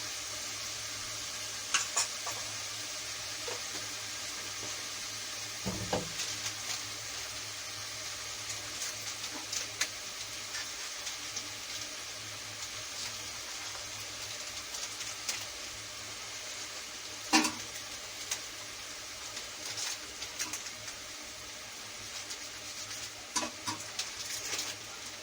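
Mutton for achar gosht fries in a pan with garlic-ginger paste, giving a steady close sizzling hiss that runs throughout, broken by occasional scattered clicks and light knocks of stirring.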